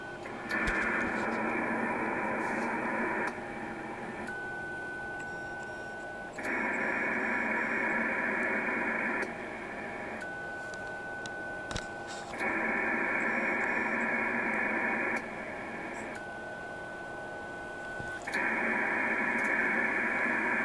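A faint 23cm-band moonbounce (EME) radio echo from a 12-watt transmission: a thin steady tone sits in the receiver hiss between louder, regular bursts of radio noise, repeating several times with no voices.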